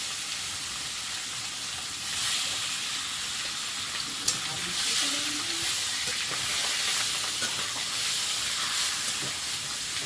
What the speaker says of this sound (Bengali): ইলিশ মাছ ভাজছ হ্যাঁ?